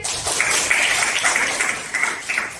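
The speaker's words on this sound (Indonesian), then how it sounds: "Tepuk tangan." A classroom of students breaks into steady, lively applause, dense clapping from many hands that continues without pause, close and fairly loud.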